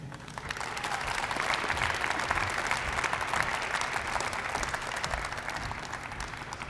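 Sustained audience applause fills a room at an annual university senior breakfast, a dense, steady wash of many hands clapping at even loudness throughout with no voices over it.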